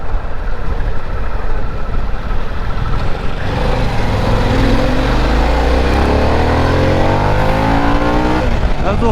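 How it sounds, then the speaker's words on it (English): A 2024 Harley-Davidson Pan America motorcycle pulls hard in third gear, its engine note climbing steadily in pitch, loud and close, with no talk over it. "That was a little third gear pull."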